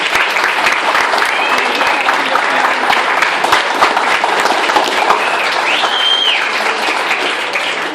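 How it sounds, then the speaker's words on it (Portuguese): Loud, continuous crowd applause at a certificate-presentation ceremony, heavy clapping sustained for eight seconds with a couple of whistles and cheers above it. "Palmas."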